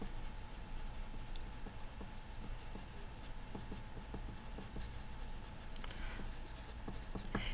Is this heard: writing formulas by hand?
yes